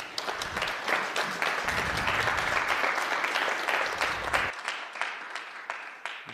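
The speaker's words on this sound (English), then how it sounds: "let's have a round of applause" Audience at a tech conference talk on large language models breaks into applause, dense clapping that runs steady for about four seconds and then thins into scattered claps as it fades.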